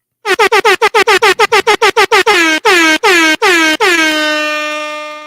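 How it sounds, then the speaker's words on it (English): A loud air horn blasts in a rapid series of short honks, then several longer blares, ending in one sustained tone that slowly fades. "Where's my air horn?"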